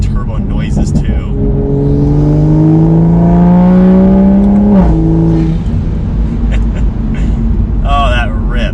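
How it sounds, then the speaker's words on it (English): A tuned Toyota A90 Supra with an MST intake, A90 Garage downpipe and AWE exhaust pulls hard, its engine note rising steadily in pitch with turbo whine and whooshes, loud and close, then a quick lift and crackle at the end. "with my MST Intake, the A90 Garage Downpipe, and then the AWE exhaust, you hear so many turbo noises too"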